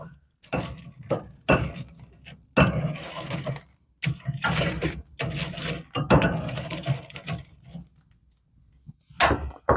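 Wood and coals being stirred in a smoker firebox: a run of loud close scraping and clanking bursts with short pauses, metal rattling against burning chunks throughout.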